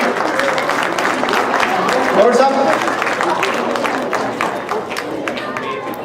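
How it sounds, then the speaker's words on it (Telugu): Steady audience applause fills a community event hall, dense and continuous clapping close by, while someone speaks over it through a microphone. "చప్పట్లు కొడుతున్నాను."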